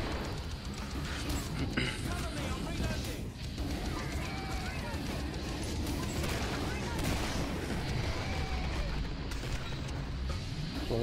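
Gunfire and grenade blasts from a video game battle in a tournament match, with dense overlapping shots and booms throughout and a person talking over them.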